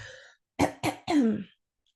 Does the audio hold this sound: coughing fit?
yes